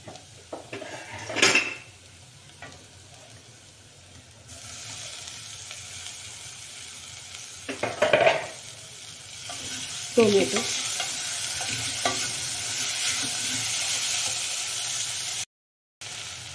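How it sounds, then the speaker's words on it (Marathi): Curry leaves and chopped tomato sizzle in hot oil in a pan, with a steady frying hiss that swells as the mix is stirred, and a metal spoon scrapes and clinks against the pan now and then. "टोमॅटो, कढीपत्ता छान तळून झालेला आहे"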